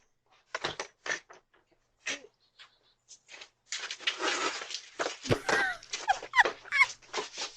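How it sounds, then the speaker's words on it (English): Dogs straining to chase a skunk let out scattered whimpers and whines, faint at first and then louder and busier, with a person's voice mixed in toward the end. "She couldn't control her dogs that wanted to chase the skunk."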